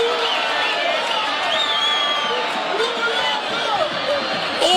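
Stadium crowd at Wazanai Stadium roars and cheers after an equalising long-range goal in a Zimbabwean Premier Soccer League football match, a dense sustained wash of voices with whoops rising throughout.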